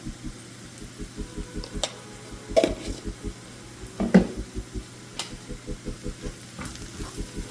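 Onion fries in a pan with turmeric for a green amaranth leafy vegetable dish, a soft steady sizzle under rhythmic stirring scrapes and a couple of louder clanks, close up and without talk.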